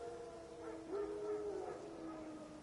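Wild dogs in The Witcher 3 video game give a faint, distant drawn-out howl lasting about a second, set against quiet ambient game sound.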